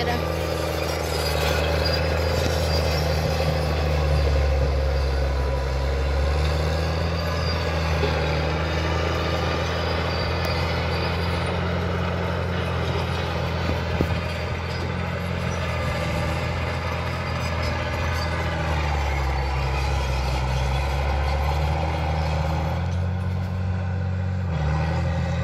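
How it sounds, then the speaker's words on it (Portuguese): A Komatsu D50A crawler tractor building up a dam embankment gives off a continuous, loud low engine rumble that holds steady from start to finish with only slight swells. "Aquilo ali é um trator de esteira."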